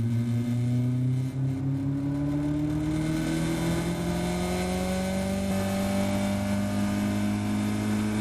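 A Caterham race car engine drones loudly and continuously while racing on the Silverstone Grand Prix circuit, heard from close on board, its pitch climbing steadily as the car accelerates.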